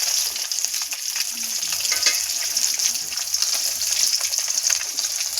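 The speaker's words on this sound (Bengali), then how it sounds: "আর এই যে মাছ ভাজা হচ্ছে, ঝোল হবে আলু দিয়ে।" Rui fish fries in a pan over a wood-fired clay stove, giving a steady, close hiss of sizzling oil with light crackles and no talking.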